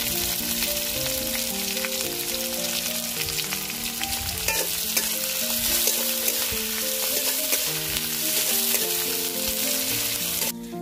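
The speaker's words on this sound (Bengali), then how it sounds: "পেঁয়াজটা ভালোভাবে ভেজে নিয়েছি" Chopped onion fries in oil with cinnamon, bay leaf and green chilli in a wok, giving a loud, steady sizzle with repeated stirring scrapes throughout and no talk.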